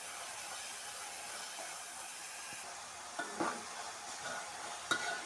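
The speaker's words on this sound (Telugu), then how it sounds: "మీడియం ఫ్లేమ్లో పెట్టుకొని వేపుకోవాలి బాగా." Grated tomatoes frying in a pan over a medium flame for an egg keema curry, a soft steady sizzle with a few brief stirring scrapes near the end, no talking.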